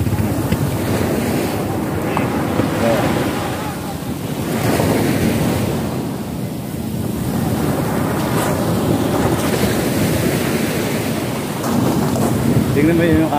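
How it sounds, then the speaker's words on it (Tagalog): Sea waves surge and crash continuously on Nasugbu beach, a loud, steady roar of surf with swelling rushes, mixed with gusting wind buffeting the microphone. "humahampas-hampas yung tubig doon."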